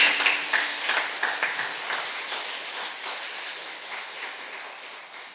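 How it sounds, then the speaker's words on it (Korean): Congregation applauding at a Sunday church service, a steady crowd of clapping hands at moderate level that gradually eases off, with no talking over it. "박수 한번 크게 주세요."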